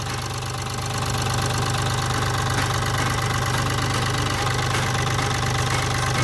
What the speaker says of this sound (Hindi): ये हमारी गाड़ी स्टार्ट हो गई है, अब देखेंगे वो इंजन हिल रहा है।